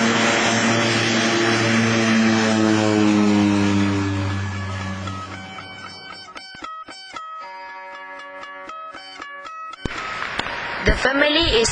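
A propeller aircraft drones overhead, loud at first and then fading as it passes, followed by a higher mechanical tone and a burst of noise near the end.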